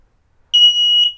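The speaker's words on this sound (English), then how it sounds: "So to test, just press this one, the test button, it will beep." Wireless smoke alarm sounding its test beep: a single loud, piercing electronic tone held for about half a second, close and clear in otherwise silent surroundings.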